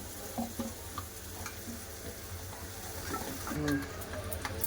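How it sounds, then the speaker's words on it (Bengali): Gram flour batter is whisked with small additions of water, making steady close wet stirring and slapping sounds that swell toward the end, with only a faint background voice. "এবার কম কম জল দিয়ে বেসনটাকে গুলি নেবো"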